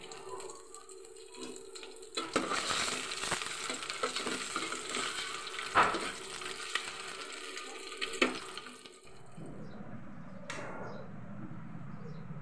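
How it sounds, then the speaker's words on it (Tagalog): Plain egg seasoned only with salt frying in a home kitchen pan, a steady sizzle with occasional stirring clatter, ending in quieter background noise. "naka-fry na ang egg"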